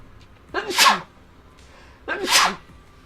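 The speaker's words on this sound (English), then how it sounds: "I'm gonna sneeze." Two sharp sneezes, close and fairly loud, separated by a short pause of quiet.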